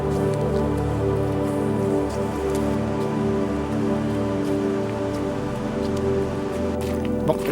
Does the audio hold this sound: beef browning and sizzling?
no